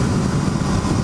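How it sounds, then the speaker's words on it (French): Aprilia Tuono V4 Factory 2022 motorcycle with its V4 engine and stock exhaust, a loud, steady low rumble heard up close in a brief continuous burst. "l'échappement d'origine fait un superbe son et la valve à l'échappement s'ouvre quand on passe les 6000 tours"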